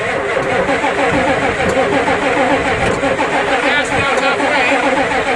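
A diesel Ford truck engine cranks over and over with a continuous loud mechanical churn, and a voice speaks briefly over it.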